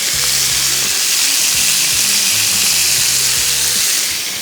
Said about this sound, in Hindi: तेज़ आंच पे फ्राई करेंगे